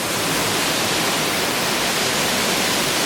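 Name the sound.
waterfall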